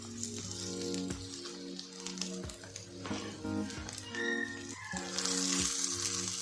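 Bread slices fry on their second side in a pan with a soft, continuous sizzle and crackle, alongside a steady humming tone and occasional clinks.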